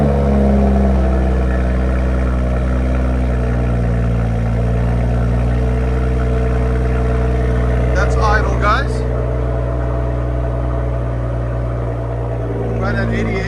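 A 2023 Toyota Supra GR with a 3.0L inline-six and an aftermarket exhaust holds a steady, deep droning engine note close by, while brief voices cut in partway through.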